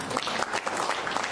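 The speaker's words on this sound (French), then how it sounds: "Je vous demande d'applaudir M." Applause for Fodé Souma rises from an assembled audience: a dense, steady patter of many hands clapping, fairly close and even, with no voices standing out.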